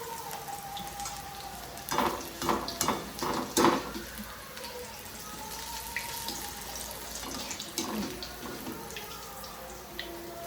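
Bhajiya fritters dropped into hot peanut oil, a soft continuous sizzle and bubbling with a burst of crackling spatter in the middle, fairly quiet and close, no talking.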